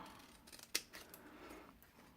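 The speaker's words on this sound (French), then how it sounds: "je vais les découper là juste avec des ciseaux" One quiet, crisp snip of scissors cutting paper close by, surrounded by faint rustling in an otherwise hushed room.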